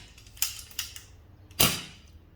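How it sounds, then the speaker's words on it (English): Three sharp CO2 air rifle shots from an unregulated rifle with a fresh CO2 cartridge fitted, fired to clear the initial gas; two quick, lighter pops are followed by a louder crack, each one fading quickly into quiet. "I'm just going to fire off 3 shots just to get that"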